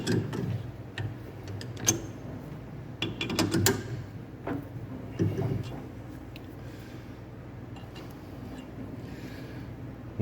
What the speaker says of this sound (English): I need to slacken that jaw and tighten that one.